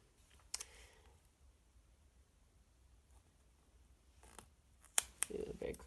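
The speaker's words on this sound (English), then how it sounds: "I just need to cut one heart off" Scissors snip a small heart from a printed planner sticker sheet: a few quiet, close clicks and cuts spaced apart over a faint background.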